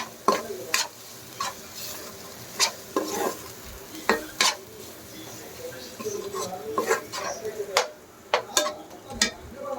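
Ginger-garlic paste frying in oil on a low flame for a chicken curry, with soft continuous sizzling broken by repeated sharp scrapes and clinks of a spoon stirring against the pan, close by.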